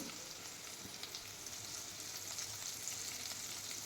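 Garlic and fresh ginger fry in a pan with a soft, continuous sizzle and faint crackle, quiet and steady throughout with no voices.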